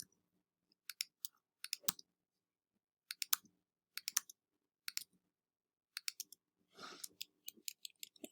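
Sharp, quiet computer mouse clicks while areas are selected in the Pixlr image editor, coming in small irregular clusters of two or three with pauses between them and a soft breath partway through.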